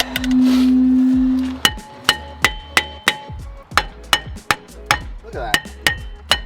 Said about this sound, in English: Just a little hammer.